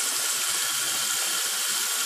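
Hot water running steadily from a tap into a sink, a continuous close splashing hiss with no voices.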